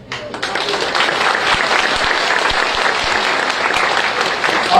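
Audience at a political rally applauding, a dense, loud burst of clapping that holds steady for several seconds.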